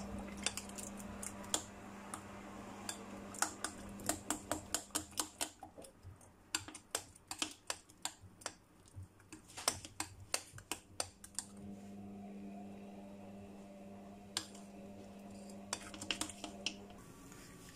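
Unripe plantain akara batter being mixed with egg, a spoon or whisk clicking and tapping against the bowl in quick irregular bursts of sharp ticks, with quieter pauses between, close by and with no voices.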